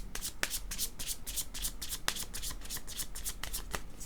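Tarot cards are shuffled and drawn close up, with a rapid series of crisp riffling and flicking bursts and a few sharper snaps, steady throughout with no voices.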